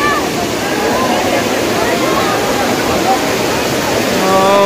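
Rushing water at the Chingra Pagar waterfall, a loud steady broadband roar that fills the whole clip with faint voices mixed in underneath.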